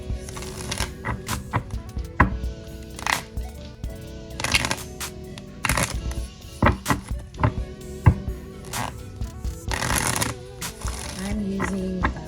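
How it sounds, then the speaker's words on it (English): An oracle card deck being shuffled by hand, with repeated riffling flutters and soft taps of cards in irregular bursts, close and fairly loud with some voice in the background. "I'm using the Amenti Oracle deck by Sodini and Crow Tarot"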